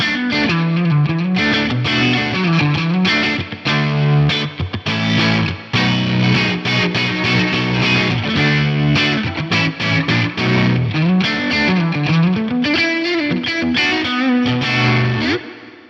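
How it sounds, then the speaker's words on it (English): Distorted electric guitar playing a continuous melodic line, drenched in large spring reverb with a wavering tremolo, loud and steady throughout. "I think that's a large spring reverb. Bit of trem on there as well."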